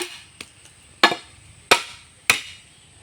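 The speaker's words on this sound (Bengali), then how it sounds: "বাঁশের খুঁটি পুঁতবো তাই মাটিগুলো সাবল দিয়ে খুঁড়ছি" A crowbar strikes into soil to dig holes for bamboo poles in a cucumber garden, four sharp, close thuds with short tails at roughly even spacing, after a faint first knock.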